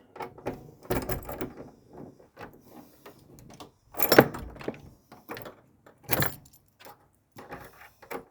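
Keys jangle and rattle at a door as it is unlocked and opened, in scattered bursts of metallic clinks and clunks up close, with a few louder handling knocks.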